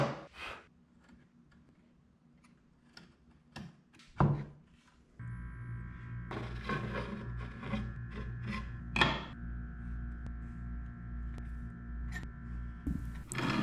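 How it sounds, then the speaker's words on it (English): A chisel pares wood on the short sides of a shelf, giving scattered scraping strokes and light taps, then a steady mechanical hum joins beneath the intermittent rasping cuts. "I just quickly pare down on the short sides"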